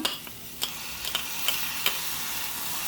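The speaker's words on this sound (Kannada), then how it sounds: "ಇದು ಒಂದು ಎರಡು ನಿಮಿಷ ಚೆನ್ನಾಗಿ ಫ್ರೈ ಆಗಬೇಕು" Small onions and tomato frying in a pan with a constant hiss of sizzling oil, close and steady, broken by a few sharp spatula taps against the pan.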